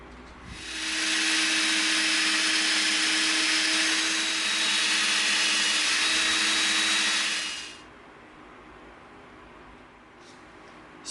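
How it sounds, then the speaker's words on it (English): A power drill bores a hole into an EVA foam bison axe head, its bit slightly smaller than a dowel, giving a loud, steady whirring grind for about seven seconds before cutting off into quiet room noise. "we've got a drill bit that's a little bit smaller than the dowel because we want it to be tight"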